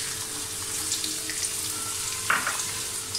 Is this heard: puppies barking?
no